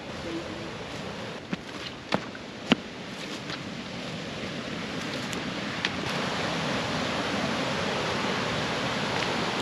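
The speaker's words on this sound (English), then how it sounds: "I'm going to take you down to the crazy river." Steady broadband rush of a fast-flowing river, close and continuous, with a few faint knocks near the start.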